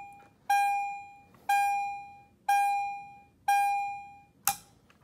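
A 9V fire alarm triggered by a pull station sounds four loud, evenly spaced metallic rings about a second apart, each decaying, then a short final clack.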